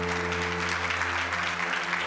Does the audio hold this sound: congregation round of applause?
yes